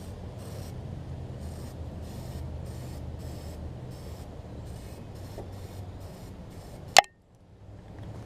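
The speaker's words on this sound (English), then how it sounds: "let me spray some starter fluid in it just to give it a kick to start" Starter fluid sprays in pulsed hisses into a Husqvarna mower's carburetor, a steady series of short bursts close by, ending in a sharp clunk and then near silence.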